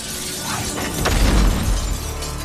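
Glass shattering in the film Blade Trinity: a loud crash with scattering shards, followed by a heavy low thud as the debris lands, under a dense soundtrack.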